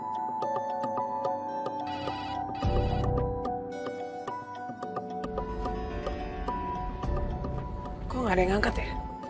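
A mobile phone rings repeatedly with a ringtone melody, with no one picking up. Dramatic background music and a falling tone play over it, and some talk can be heard.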